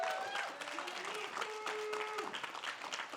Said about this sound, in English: One more round of applause for Team Liquid Honda Academy.